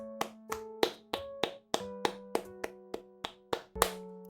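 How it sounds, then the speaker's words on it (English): Slow, evenly spaced claps from a single pair of hands, about a dozen sharp, close strikes roughly a third of a second apart, with no voices. "Round of applause in chat, please."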